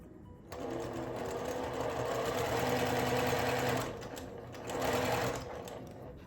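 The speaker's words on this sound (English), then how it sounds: "put them on the bottom, right sides together, and then sew on the diagonal" Sewing machine stitching quilt fabric on the diagonal for a mini quilt, a close, steady mechanical whir running in one long burst, a short pause, then a second briefer run.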